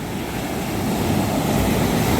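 Ocean surf rolling in at Panambur beach, a continuous low rushing roar of waves with wind blowing across the microphone, steady and fairly loud with no voices.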